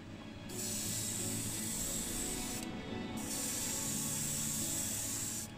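An airbrush sprays metallic blue paint over black primer on a Mercedes 350SL model body in two steady, close hissing bursts. A brief pause separates them, and a low background hum runs underneath.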